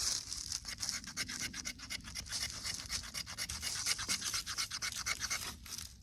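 A Condor Sport XERO knife scrapes outdoors at a campfire in quick, rhythmic strokes, a close, steady run of rasping scratches with no talking.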